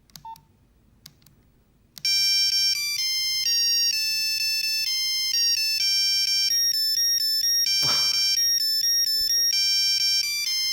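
A Nokia 3210 ringtone plays a melody as loud, bright monophonic beeps, one steady run of notes that starts abruptly after a few quiet seconds and carries on to the end.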